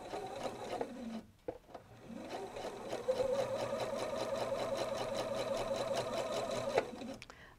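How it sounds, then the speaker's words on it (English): A sewing machine stitches a quarter-inch patchwork quilt seam, running steadily, its rapid mechanical stitching rhythm close and continuous after a brief start-and-stop near the beginning. "I'm just going to sew down the line with a quarter of an inch seam allowance."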